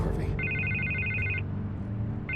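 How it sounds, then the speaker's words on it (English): In the Batman: The Telltale Series video game, a telephone rings with a steady electronic trill lasting about a second, then starts again, close and clear over a low rumbling background with faint murmur. "I can't get the phone to stop ringing."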